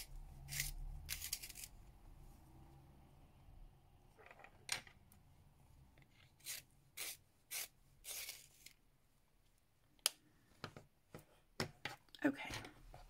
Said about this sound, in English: just quickly sharpen these pencils a sec.